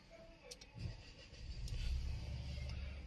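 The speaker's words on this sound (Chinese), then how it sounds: "现在我们把车启动着。" A new Nissan X-Trail's three-cylinder engine cranks and fires, its low rumble rising and then settling into a steady idle. The sound stays moderately quiet and close, with no talk over it.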